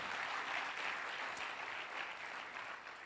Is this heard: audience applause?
yes